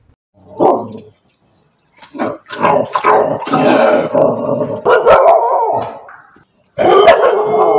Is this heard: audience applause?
no